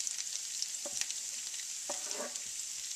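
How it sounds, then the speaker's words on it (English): Chinese sausage and onions fry in hot oil, a constant bright sizzle with a few soft scrapes and stirring knocks mixed in, close up and with no one talking. "stir in the onions and cook them for about 10 minutes until they begin to caramelize"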